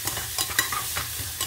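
Oxtail soup with beef tail simmering in a pot, a close bubbling and spattering texture with scattered small pops and clinks, steady and moderately loud with no voices.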